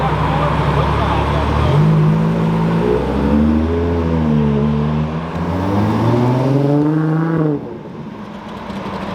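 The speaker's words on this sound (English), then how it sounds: "That's the highest revs that car has ever seen." Ferrari engine revving hard at high revs as owners leave a Ferrari festival in Houston, a loud, sustained wail rising and falling in pitch for several seconds before dropping off abruptly.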